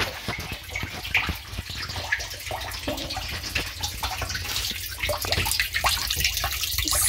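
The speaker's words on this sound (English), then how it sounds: "we still got our water running out" Water runs from a sink faucet down into the drain, a loud, steady splashing rush that continues the whole time with no talk.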